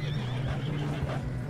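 A horse in Red Dead Redemption 2 gives a short, close whinny over faint background game sound.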